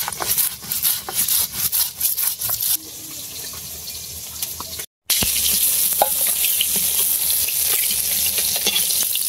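Cauliflower and potatoes frying in a pan, a steady sizzle with stirring scrapes close by, briefly mixed with running tap water, then a sudden short gap before the frying resumes.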